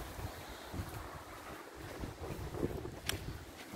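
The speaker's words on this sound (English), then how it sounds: "And it's windy." Wind blows outdoors under a cloudy morning sky, a steady low rumble with gusty buffeting against the microphone and no speech.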